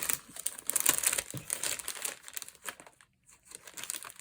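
Plastic wrapping crinkled while opening a cross-stitch kit package, close and fairly quiet rustling in bursts that pause briefly before resuming.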